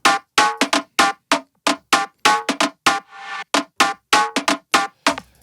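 A layered synthesized timbale loop for a tech house track plays solo: bright, punchy percussive hits in a syncopated pattern, with a brief noisy swell midway. The hits are close and loud, with no voice over them.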